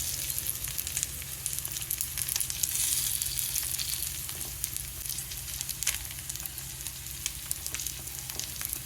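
Murrel fish (koramenu) frying in a pan, a steady close sizzle with crackling spatter throughout and no talking.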